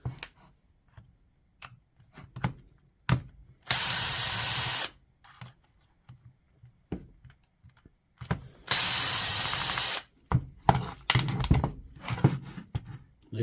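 A power driver backs out Torx screws to open the housing of a DeWalt DCD996 drill, giving two sustained whirring bursts of about a second each, mixed with scattered tool clicks and handling noises nearby.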